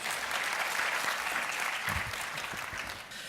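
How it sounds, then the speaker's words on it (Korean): An audience at a Korean science forum claps steadily throughout, welcoming a speaker, a dense, even wash of applause from a crowd at moderate distance. "박수로 맞아주십시오."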